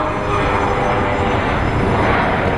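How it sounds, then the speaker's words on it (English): A Southwest Boeing 737 airliner at Sky Harbor International Airport, its engines making a loud, steady broadband roar that fills the whole stretch with no letup. "up next we have a Boeing 737 Southwest headed to Denver"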